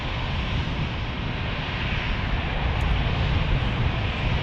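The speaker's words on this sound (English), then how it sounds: "that is an A220, Delta A220" A Delta Airbus A220 airliner at San Diego airport, heard as a steady broadband engine roar that holds constant and close, loud throughout, with no voices.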